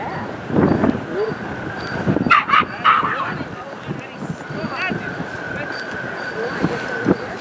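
Dogs running across the Champlain Bridge on its opening day, with a few yips and barks at moderate distance amid wind noise and people talking.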